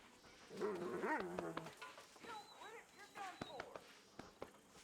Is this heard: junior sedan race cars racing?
no